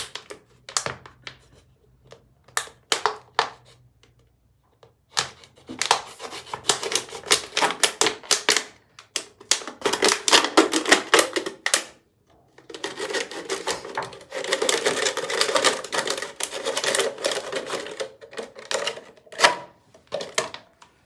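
A plastic bottle being cut with scissors: bursts of quick, sharp, closely spaced clicks and crunches, separated by short pauses, close and fairly loud.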